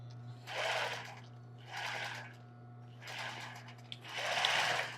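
A sewing machine runs in four separate bursts of stitching on an embroidered tulle bra, set to a short straight stitch with a brief backstitch, while a steady low mains hum continues underneath throughout.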